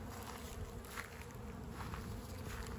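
Honeybees work busily around a hive in warm weather, making a faint, steady buzz close by. Brief louder passes occur as individual bees fly near.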